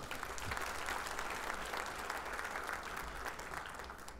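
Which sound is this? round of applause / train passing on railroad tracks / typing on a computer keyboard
round of applause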